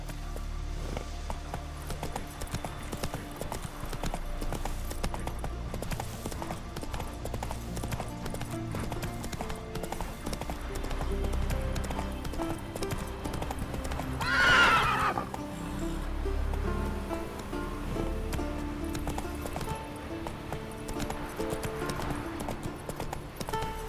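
Horse in The Witcher 3 video game, rhythmic hoof clip-clops running steadily throughout with a sharp neigh midway, set under game music and ambience.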